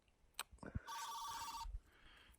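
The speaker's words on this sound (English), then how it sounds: "There goes a sat phone." A satellite phone rings out in an outdoor setting in New Zealand red stag hunting country, giving one short electronic trill of about a second amid quiet surroundings, preceded by a few faint knocks.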